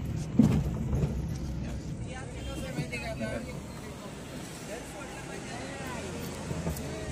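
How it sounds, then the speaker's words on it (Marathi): Road traffic in a jam near Matheran at peak season: a steady low rumble of idling and creeping engines, with a brief louder thump near the start, while voices murmur in the background. "आज ट्रॅफिक खूपच आहे, कारण माथेरान सीझन चाललाय ना सध्या, त्याच्यामुळे ट्रॅफिक जाम असते।"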